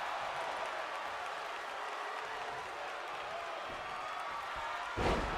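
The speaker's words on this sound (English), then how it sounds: "The crowd yelling for a submission." Crowd yelling during a match in a wrestling video game, a dense, steady roar filling the whole stretch with a brief louder surge near the end.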